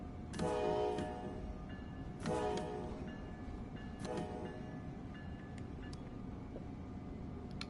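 A K5LA train horn blares three times in Train Sim World 3, each loud chord-like blast starting sharply and fading, spaced about two seconds apart over steady rail rumble.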